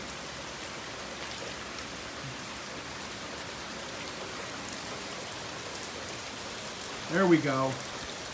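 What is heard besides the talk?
rain falling on garden plants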